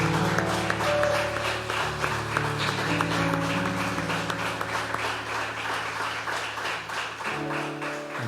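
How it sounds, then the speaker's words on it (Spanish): A congregation applauds at the close of a church sermon, a soft, continuous patter of clapping layered over sustained keyboard chords. "Démosle un fuerte aplauso a Él."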